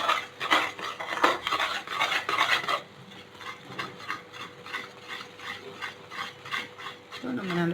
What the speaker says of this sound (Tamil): ஸோ நம்ம நல்லா கலரி விட்டுக்கிட்டே இருக்கோம். கை விடாமல் பண்ணணும்.